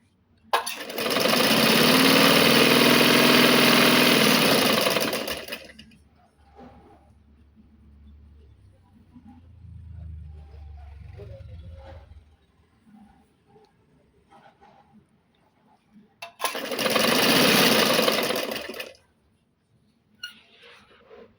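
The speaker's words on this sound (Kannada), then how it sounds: "ನೀಟಾಗಿ ನಿಧಾನಕ್ಕೆ ಹೊಲ್ಕೊಳ್ಳಿ." A sewing machine runs two loud, steady bursts of stitching on dress pants, with quiet handling sounds in the pause between them.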